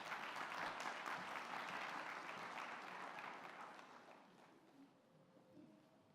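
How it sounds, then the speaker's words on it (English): An audience at a community briefing on gun violence applauds a speaker, fairly quiet clapping from a moderate crowd that holds steady and then thins out and fades toward the end. "Let's give her a round of applause"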